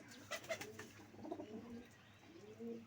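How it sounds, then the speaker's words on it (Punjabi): Soft low cooing of a pigeon, faint and somewhat distant, with a few brief chirps and rustles at the start. "ਆ ਦੇਖੋ ਇਹ ਆਪਣਾ ਫੇਵਰਟ ਕਬੂਤਰ ਆ"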